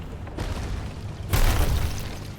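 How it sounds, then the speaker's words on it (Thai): Two gunpowder barrels explode in Sea of Thieves, a video game, two heavy booms in quick succession, the second louder and longer, each leaving a rumbling tail of noise. "Guys, please stop shooting the gunpowder barrels."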